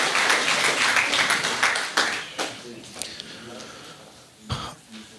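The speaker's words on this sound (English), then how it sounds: "Should we give him an applause?" An audience at a conference on self-determination applauds a speaker: a brief patter of clapping that thins out and fades within a couple of seconds, followed by scattered knocks and a cough-like sound in the room.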